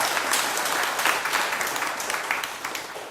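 An audience at a Buddhist dharma talk on prayer applauds after a question, a dense, steady wash of many hands clapping at once that keeps going for the whole stretch without a break.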